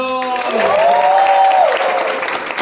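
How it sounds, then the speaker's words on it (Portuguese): An audience at a drag queen talk event gives a loud burst of sustained clapping and cheering, dense and close, with a performer's voice ringing over the start of it. "Mais uma vez, aplausos!"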